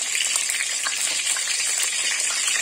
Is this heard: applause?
no